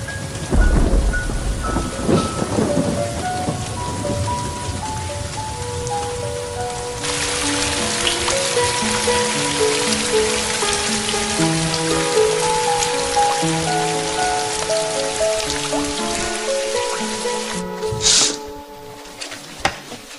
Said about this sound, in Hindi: पंछी भी बारिश में नहीं उड़ते, वो भी पनाह ले लेते